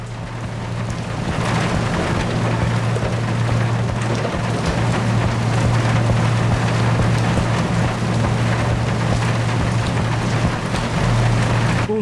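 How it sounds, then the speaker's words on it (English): Rain falls steadily on a ship's deck in the video game Seafarer the Ship Sim, a constant hiss over a low, droning hum that lasts throughout without speech. "I believe it's raining."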